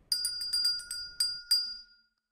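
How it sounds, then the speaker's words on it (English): In the video game The Supper, a bright electronic doorbell chimes in a quick run of tinkling notes, then two final rings that fade into silence. "Doorbell."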